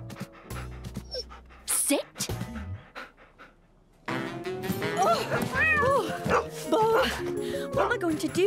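Cartoon dog pants and gives a few bright barks and yips, close and lively, mixed with speech and a busy animated soundtrack.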